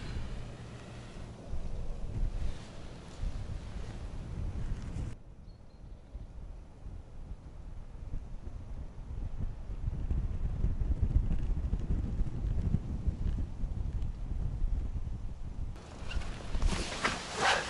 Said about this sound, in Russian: Ветрено.